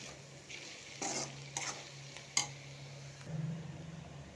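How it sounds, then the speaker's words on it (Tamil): Potato and capsicum stir-fry being stirred in a pan with spice powders, a faint low sizzle with a few soft scraping strokes of a spoon, quiet and close, without speech. "நல்லா கலக்கிடலாம்."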